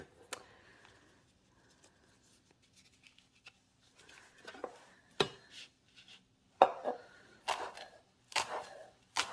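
Knife slicing a stacked, cigar-rolled bundle of herbs on a cutting board for a garlic thyme oxymel, a few quiet crisp chops and taps, sparse at first and then coming in a quicker cluster.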